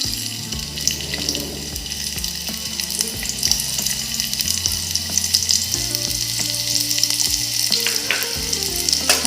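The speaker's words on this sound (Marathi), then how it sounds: "कांदा चांगल्या पद्धतीने परतून घेणार आहोत आपण लाल होईपर्यंत" Onion hisses in hot oil in a pan for a village-style fish fry, a continuous loud close sizzle with bright crackle and occasional utensil taps throughout, no voices.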